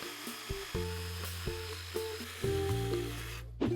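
A power drill bores a pilot hole into wood to admit a jigsaw blade, its motor whirring close and loud in several short bursts with brief pauses between.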